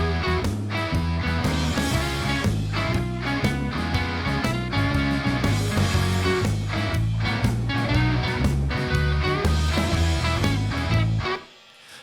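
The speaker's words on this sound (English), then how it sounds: "The rhythms are 5150s, and the clean is actually a low gain input on an old Marshall JMP from the late 70s" A dense rock-metal guitar mix: rhythm guitars through 5150 amps and a clean part on the low-gain input of a late-1970s Marshall JMP, thickened with tube saturation, playing steadily and loud before cutting off near the end.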